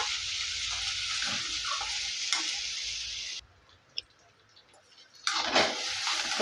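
Okra (vendakkai) sautéing in a pan as a fry, giving a loud steady hiss that cuts out abruptly midway, leaving a quieter gap with a faint tick before the sizzle returns strongly.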